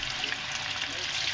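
Chicken necks frying in a pot of boiling oil, a steady, close, dense hiss and crackle that runs through the whole moment without pause.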